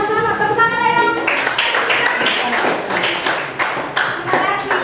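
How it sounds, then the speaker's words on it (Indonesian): Audience clapping hands after a presentation at a school coding and artificial intelligence lesson, a fairly close burst of many hands with distinct individual claps, following a brief moment of speech. "Tepuk tangan ayo."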